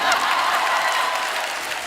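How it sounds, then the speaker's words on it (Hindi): A studio audience on a television comedy show applauding, a dense, even wash of clapping that holds at a steady level throughout. "तालियां बजाना"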